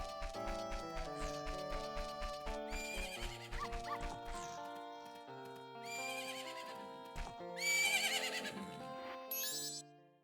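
Epona the horse whinnies in Zelda: Majora's Mask, a game neigh heard amid plucked game music with clip-clop-like notes, a couple of short bright calls standing out over the tune.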